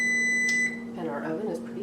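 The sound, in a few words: oven preheat beep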